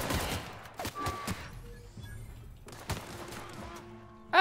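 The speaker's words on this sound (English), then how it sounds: "Oh, y'all are shooting me." Bursts of video game gunfire crackle in short volleys early on, then return after a quiet gap, with a sharp loud hit at the very end.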